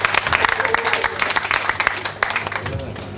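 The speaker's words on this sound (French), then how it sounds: "Des applaudissements pour Abbé Osario, s'il vous plaît." Applause at a closing ceremony for diocesan training courses, a dense patter of many hands clapping steadily through the moment, with some background voices mixed in.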